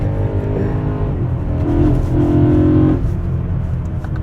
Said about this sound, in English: Tell you what, this engine with that plenum just never gets boring.